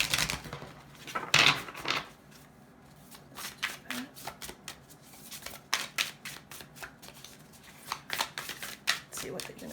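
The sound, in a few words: shuffling Universe Has Your Back oracle cards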